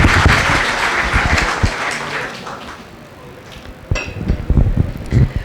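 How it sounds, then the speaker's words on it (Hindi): Group of home guards clapping together after an exercise session, the applause loud at first and then thinning into scattered claps that trail off before a few late ones. "तालियां बजाइए"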